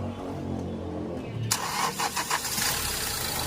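A diesel Hyundai Accent CRDI with a hard-starting problem cranks and then fires up: there is a low rumble, then an abrupt catch at about 1.5 seconds. Rough, pulsing engine noise follows, close and fairly loud, with no talk.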